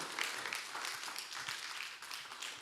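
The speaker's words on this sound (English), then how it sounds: "Another round of applause for our speaker." Seminar audience in a hall gives a steady round of applause, a dense, even patter of many hands clapping at moderate distance for a couple of seconds.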